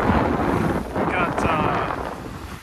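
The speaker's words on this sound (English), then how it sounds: "West-southwest winds blowing maybe" Strong west-southwest wind, high teens to low 20s, buffets the microphone on a sailboat in a steady roar, with water rushing faintly beneath.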